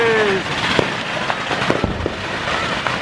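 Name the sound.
fireworks and firecrackers at New Year in Angeles City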